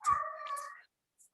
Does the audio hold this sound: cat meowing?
yes